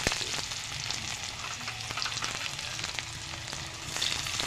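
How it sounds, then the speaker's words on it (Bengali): Onion frying lightly in oil with dried red chilli, bay leaf and cumin seeds for jeera rice, giving a steady, close crackling sizzle with faint stirring throughout. "পেঁয়াজটা হালকা করে ভেজে নেব।"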